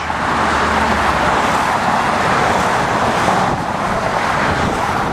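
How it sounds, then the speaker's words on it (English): Road traffic on the Belt Parkway heading onto the Mill Basin Drawbridge in Brooklyn, a steady, loud roar of passing cars with wind buffeting the microphone, continuous and close, with no voices. "Traffic heading on to the Mill Basin DrawBridge."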